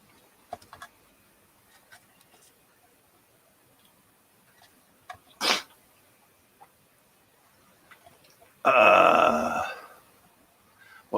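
A single sharp sneeze bursts out at close range near the end, loud and broad, following a short isolated burst mid-clip amid faint ticks and small knocks in an otherwise quiet room.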